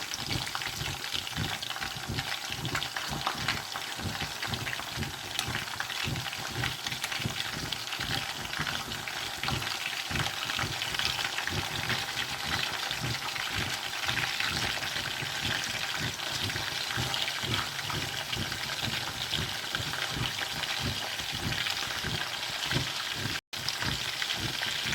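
Mutton kababs fry in a pan over medium heat with a steady, close sizzle and crackle that holds constant throughout.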